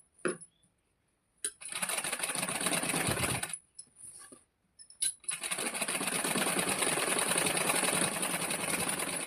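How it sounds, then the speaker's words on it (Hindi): A sewing machine stitches a blouse in loud continuous runs of rapid mechanical whirring, stopping briefly twice between bursts, close up with no talking. "ये हमने सिलाई लगा ली है, इसी तरह से इस तरफ भी हमें सिलाई को लगा लेना है।"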